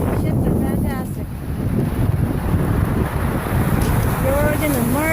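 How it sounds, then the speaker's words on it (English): Ocean waves at Rocky Harbor, Newfoundland, a rushing surf wash mixed with heavy wind buffeting on the microphone, with voices talking over it. "Listen to the waves."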